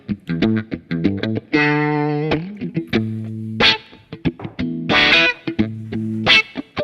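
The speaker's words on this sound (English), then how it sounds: "I turn down the mix just to get this little sound, little bit of moving from the filter" Electric guitar run through a Kemper Profiler with a moving filter effect and the mix turned down: a string of short plucked notes and a few sustained chords, close and clear, the tone sweeping gently as the filter moves, no talk.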